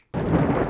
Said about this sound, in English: You hear that thunderstorm happened here on the northern side